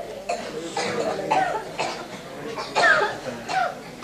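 Repeated coughing from a person, several separate bursts in a row at close range, fairly loud, with no talk over them.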